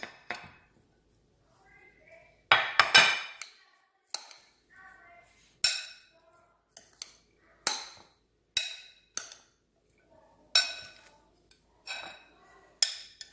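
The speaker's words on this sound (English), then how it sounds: "now we're going to go ahead and mix in the cheese with the chopped onions" Cheese and chopped onions are mixed in a bowl in short, separate scraping strokes about a second apart, close and crisp, with near silence between them.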